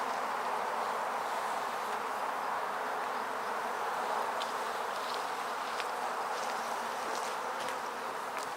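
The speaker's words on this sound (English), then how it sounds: "And the bees crawl down in there and get their stuff" Honey bees crawl and hum inside a gallon in-hive feeder during a November hive inspection, a steady close buzzing drone with faint wing flutters throughout.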